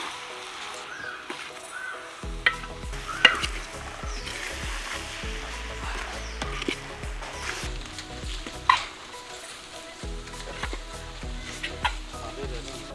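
Chicken masala for Punjabi-style chicken sizzling in a pan as it is stirred, with a quiet start, then steady frying broken by scattered spoon scrapes and clinks against the pan.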